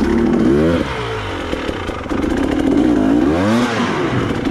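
A motorcycle engine revs loudly and close by, rising and falling in two strong swells over a rough idle, and a short spoken word is heard.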